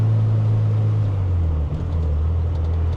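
A K-swapped Honda EK1 with individual throttle bodies drones loudly with a steady low engine tone from inside the car, dipping briefly midway as the revs shift.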